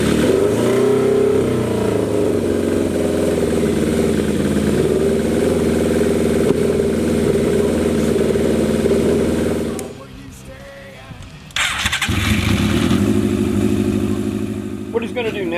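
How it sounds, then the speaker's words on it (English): A motorcycle engine cranks over briefly, then catches and runs loud and close, holding a rough, throbbing rev that cuts off and restarts at full volume near the end. "I'm going to crank a little bit first to build some oil pressure. Turn it on."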